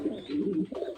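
A pair of racer pigeons coo close by, two soft throaty warbling phrases with a short gap between them, clear and alone.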